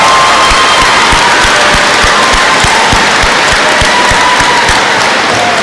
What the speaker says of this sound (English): Let's give these two young men a round of applause